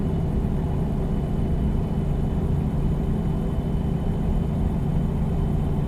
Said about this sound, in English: You can put a little more engine sound here.